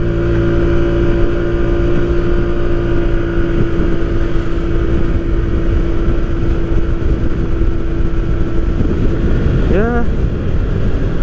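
A used Suzuki Hayate 125 automatic scooter engine runs with a steady, even drone throughout, close to the microphone, with a brief voice near the end.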